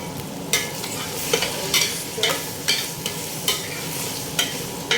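Cooked, chopped liver stirred in a pan while making fried rice, giving a steady low sizzle broken by regular scraping strokes of a spatula, close and fairly loud, with no talking.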